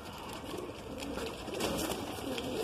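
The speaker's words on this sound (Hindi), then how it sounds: "ये मेरा सरताज कबूतर है" Sartaj pigeon, a Madrasi breed kept in a loft, cooing in a soft continuous murmur close by, with a steady low-level background and no talk.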